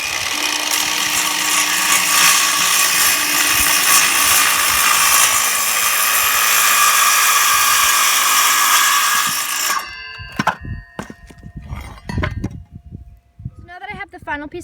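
A power tool cuts through pallet wood with a loud, high whining buzz for about ten seconds before stopping abruptly, followed by scattered knocks and handling sounds of wood pieces.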